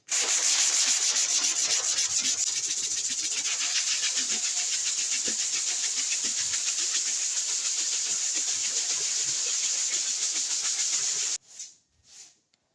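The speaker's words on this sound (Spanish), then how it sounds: "Fíjense que voy lijando ya, ya he lijado bastante" Hand sanding of body filler on a hail-dented car panel gives a steady, close abrasive rubbing hiss with a quick stroke rhythm that runs unbroken for about eleven seconds. It stops abruptly, and two faint soft sounds follow.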